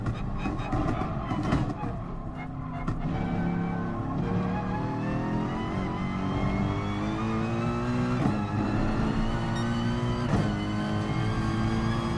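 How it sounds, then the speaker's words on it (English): Race car engine in Gran Turismo Sport revs and shifts gears, with loud, continuous exhaust drone and rising pitch sweeps, plus brief crackles and pops between shifts. "the car changes gear. I love that kind of crunching noise. I sort of hear the exhaust go as well, like popping away."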